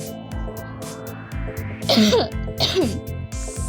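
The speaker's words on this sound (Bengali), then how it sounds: "বয়স দিতে দিতে কাশি এসে পড়েছে" Two short, raspy coughs burst out close by in a home kitchen while patties are being fried, heard over a steady humming background.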